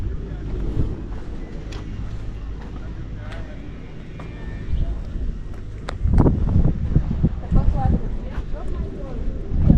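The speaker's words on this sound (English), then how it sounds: "Not gonna lie, it's so windy." Heavy wind in Langkawi buffets the microphone in low, rumbling gusts that grow stronger and rougher toward the end, with faint voices underneath.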